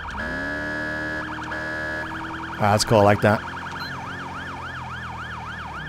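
Police siren tones in GTA 5 LSPDFR, cycling through a steady wail, a rapid yelp burst and wavering warble patterns, loud and close, with someone briefly talking over them.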